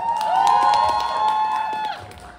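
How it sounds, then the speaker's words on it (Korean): A crowd at a breakdance battle final in Korea cheers and whistles for a crew, a loud, sustained roar with a high whistle held through most of it that fades near the end. "박수 한번 주세요."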